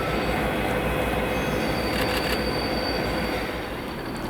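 A train rolls steadily past at close range behind Class 57 locomotive 57601 hauling Class 313 empty coaching stock into a loop in Scotland, a continuous loud rumble with wheels squealing high above it and no talk.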